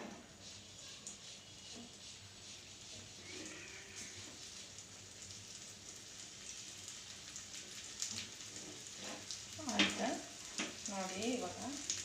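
Beaten egg omelette mixture poured into hot oil in a small karandi pan, a soft steady sizzle that swells into louder crackling spatter toward the end, with no talk heard.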